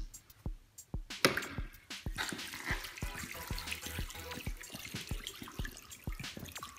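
Water pours and splashes into a Septisurge septic dynamic fluid manifold as it fills, with continuous trickling and irregular drips and gurgles at close range and no talking.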